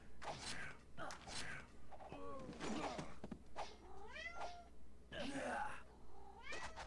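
A pet cat named Boo Kitty meows several times in a room, rising, drawn-out calls close to the microphone, alternating with a person talking over a steady low background hum.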